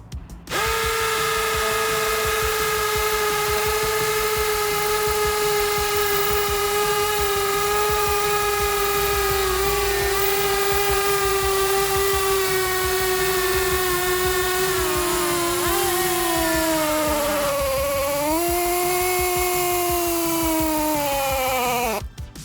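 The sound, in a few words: hammer drill drilling concrete slab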